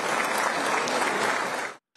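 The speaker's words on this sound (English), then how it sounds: "There was admiration for the former soldier as the applause rang out long and loud." Long, loud applause from a large crowd at the Indonesian presidential inauguration, a dense, steady clapping that fills the whole clip and cuts off abruptly near the end.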